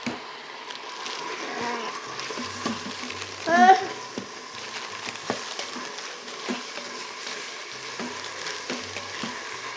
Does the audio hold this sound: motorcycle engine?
no